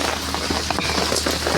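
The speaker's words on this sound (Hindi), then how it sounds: "ओ बहुत बारिश तेज है और बर्फबारी हो रही है" Dense, steady patter of heavy rain mixed with snowfall hitting surfaces close by, with a low constant hum underneath.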